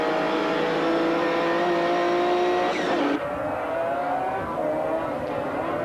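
GT race cars, among them the Segel Motorsport Porsche 911, scream along at high revs at Paul Ricard in 1995, with a loud pass and a shift in pitch partway through. A commentator talks over the engines.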